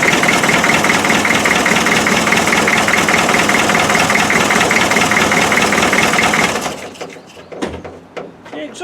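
A Land Rover Defender 2.5 naturally aspirated diesel idling roughly with a fault in the rear cylinder, a loud steady clattering drone that cuts off near the end, leaving a few faint knocks and rustles.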